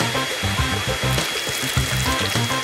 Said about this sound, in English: I'm going to do it with a hairdryer.